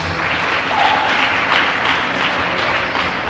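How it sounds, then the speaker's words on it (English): Audience applause fills a school debate final, a steady dense wash of clapping from many hands, loud and continuous throughout with no talk over it. "Give yourselves a round of applause for being an excellent audience"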